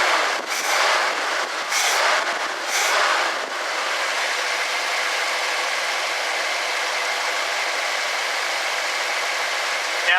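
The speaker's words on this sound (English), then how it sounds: "Belt squeal." A 1964 Ford Thunderbird engine idles steadily with a loud, even hiss and rumble, with a few surges in the first seconds as the belt squeals. No voices are heard.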